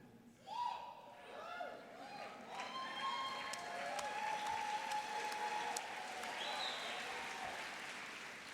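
A graduation crowd cheers and applauds, rising from scattered whoops into sustained clapping with high yells and whistles layered over it, fairly distant and steady throughout.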